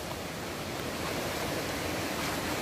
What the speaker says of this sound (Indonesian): Sekarang kita dapat sungai segar.